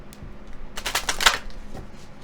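Tarot cards shuffled by hand for a reading, with a quick burst of riffling flutters and soft slaps close up, followed by a couple of lighter card taps.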